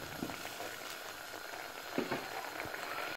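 A pot of pregnancy soup with added salt simmers steadily, a soft, even bubbling and faint popping throughout, quiet and close with no talk.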